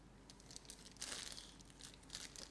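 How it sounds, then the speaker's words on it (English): A Ziploc bag holding red candy melt is pressed and sealed, giving close, soft plastic crinkling and rustling throughout, with a brighter burst of crackle near the middle. "Make sure that you seal the bag."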